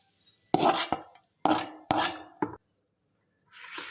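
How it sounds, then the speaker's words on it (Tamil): Oil being stirred into mango pickle in a pot, a few bursts of scraping and rubbing strokes with short pauses between them, close and alone with no talk. "இதை நல்லா மிக்ஸ் பண்ணிக்கணும்."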